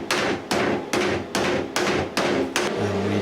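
A hammer strikes the sheet metal lip of a Talbot camper bonnet seven times in a steady rhythm, each close, loud, ringing metallic blow decaying quickly before the next.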